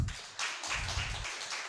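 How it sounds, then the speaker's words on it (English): Hand clapping from a gathered audience at a weekly press and public engagement event, a burst of dense applause lasting about a second and a half, fairly close and steady, with no talk over it. "Some good hand clap, please."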